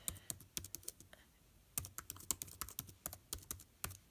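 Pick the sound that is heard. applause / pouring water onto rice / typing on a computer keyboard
typing on a computer keyboard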